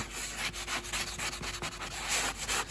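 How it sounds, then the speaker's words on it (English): A sanding block rubs lightly over a drywall patch, steady close scratchy strokes repeating in an even back-and-forth rhythm with no talking. "I'm going to take my sander block. I'm just going to sand it very lightly."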